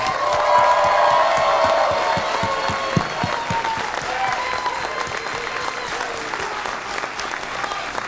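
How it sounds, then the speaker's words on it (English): A live theater audience in Los Angeles breaks into applause with some cheering and whoops, the loud crowd clapping starting strong and then thinning gradually. "you gotta do the preemptive applause for Nando Vila, Wosny Lambre, and Anya Kasparian"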